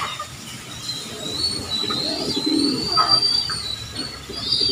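Racing pigeons cooing softly at feeding time, low throaty coos rising now and then over a constant background hum and a faint high whine, with no talking.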